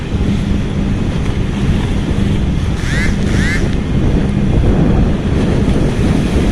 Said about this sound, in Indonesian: Ombaknya gede teman-teman.